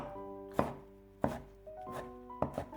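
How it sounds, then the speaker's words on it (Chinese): A knife dicing peeled tomato on a cutting board gives four sharp, separated chops about a second apart, close and clear against a quiet room with faint background music. "将西红柿切成薄片，再改刀切成小丁"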